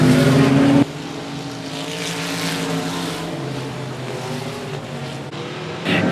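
Race cars roar around a quarter-mile high-bank speedway, engines droning loud and steady with a sharp drop after the first second, then a rising, shifting whine as the pack circles, with another surge near the end.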